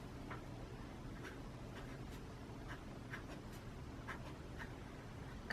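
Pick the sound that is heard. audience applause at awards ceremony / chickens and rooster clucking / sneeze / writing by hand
writing by hand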